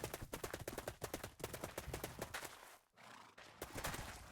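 Horse in the game Minecraft, rapid rhythmic hoof clip-clops at a gallop, close and clear, with a short break before the hoofbeats resume.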